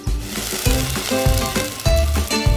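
Food mixture poured into a hot frying pan at an outdoor campsite sizzles loudly and close, with a couple of scraping stirs breaking the continuous crackle.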